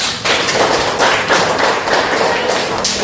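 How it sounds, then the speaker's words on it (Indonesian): A classroom group bursts into brisk clapping for the kinesthetic learners, a dense, loud patter of hands lasting a few seconds with no talk over it. "Aplaus dulu untuk kinestetik."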